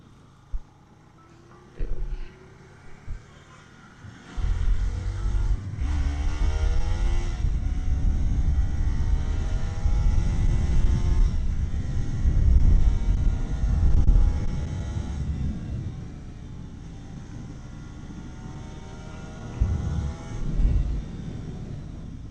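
Modified Bajaj Pulsar NS200 motorcycle engine revving loud and close after a few short blips, a sustained rising and falling drone with harmonic whine that eases off, then brief throttle bursts near the end; no talking.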